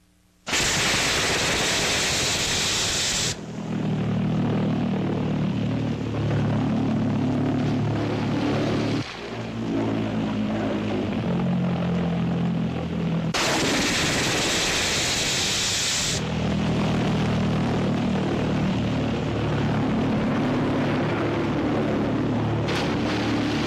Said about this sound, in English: Now the American buzz bomb is flight tested.